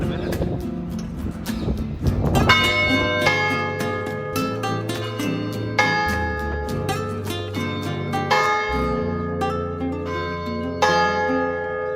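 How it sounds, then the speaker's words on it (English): Church bells ring loudly in a bell tower in southern Spain, several resonant strikes with long, ringing overtones layered over one another as each new stroke sounds. "There's a number of bells up here, but don't know which one's going to ring."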